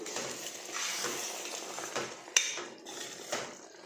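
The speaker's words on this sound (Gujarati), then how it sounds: "તો આપણે બંને ચીજના ક્યુબને સીણી લીધું છે અને હવે બરાબર મિક્સ કરી લઈશું" Paneer and cheese cubes are stirred in a pan with a metal spoon, giving soft scraping swishes and a few sharp clinks against the pan, close up and with no talking.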